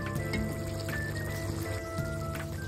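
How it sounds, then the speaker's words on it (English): Water poured into a pot of braised beef, a steady liquid splashing and trickling that runs throughout at moderate, even loudness with no talk. "We add enough water."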